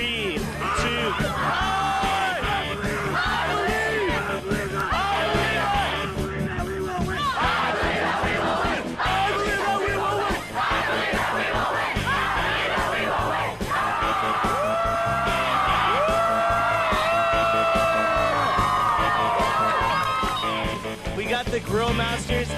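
A large crowd in a football stadium stands and cheers, a loud, continuous roar of yells and whoops with an amplified announcer's voice carrying over it throughout.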